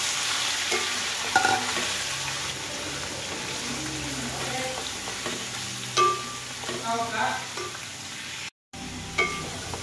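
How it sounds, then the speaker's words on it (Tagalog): Adobo sautés in a pan at a rural home, giving a continuous close sizzle with scraping and clinking stirring strokes throughout and a brief cut to silence near the end. "igisa ko muna guys bago ko pakuluan"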